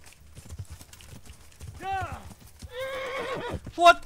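Horse in the video game Kingdom Come: Deliverance, a soft clip-clop of hooves followed by two loud whinnies, with a voice speaking faintly underneath.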